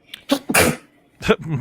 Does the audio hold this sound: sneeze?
yes